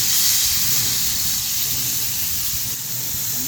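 Loud, steady broadband sizzle of burger patties being smashed thin with a spatula on a hot griddle, continuous hissing and crackling close up with no pauses.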